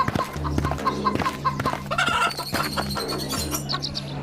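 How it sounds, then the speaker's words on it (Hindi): Several chickens cluck and cackle close by in a steady, busy stream, with a rooster-like call rising partway through and no talk over them. "कलुआ बिलुआ दुखी मन से अपने हिस्से की मुर्गियां ले चले जाते हैं"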